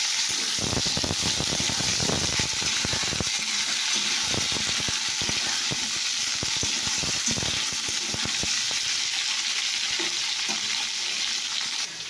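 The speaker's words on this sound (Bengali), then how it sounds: "তো এটাকে ওটা একটু জল ঝরিয়ে নিচ্ছি" Water drains and drips steadily from boiled papaya held in a basket, with a continuous broadband hiss of trickling liquid and scattered splashes and clatters, close and fairly loud, with no talking.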